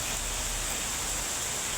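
Heavy rain pours onto an outdoor basketball court in a steady, dense hiss that fills the whole stretch without a break or any voice.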